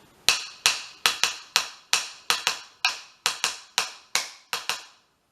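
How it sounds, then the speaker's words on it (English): Sharp, dry drum strikes play a lively repeating Bembe pattern in 12/8, about a dozen crisp hits with quick decays and no talking. "Now the Bembe pattern, as I've said, is in 12/8. It sounds like this."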